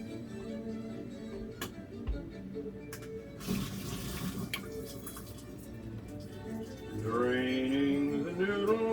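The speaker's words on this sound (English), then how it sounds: "Draining the noodle." Water pours and splashes as cooked instant noodles for a pepper crispy pork dish are drained into a sink, a steady rush that swells louder near the end, with a few clinks of a pot or bowl.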